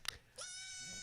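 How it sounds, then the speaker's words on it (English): A baby goat lets out a short bleat after a sharp knock, then a sustained, wavering cry carries on clearly to the end. "there's a baby goat"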